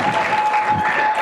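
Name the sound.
audience applause after a speech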